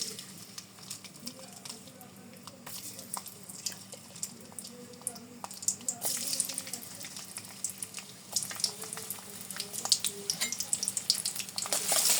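Chopped garlic frying in mustard oil, a steady crackling sizzle that grows louder and denser toward the end, with stirring clatter and a voice talking over it.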